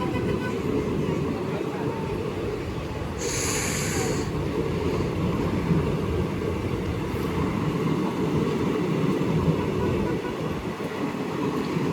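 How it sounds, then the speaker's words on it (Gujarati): A large train rumbling past near a small rural station on the Rajkot line, a steady loud roar throughout with a brief high squeal partway, while a person talks over it. "જો કેવડી મોટી ટ્રેન છે."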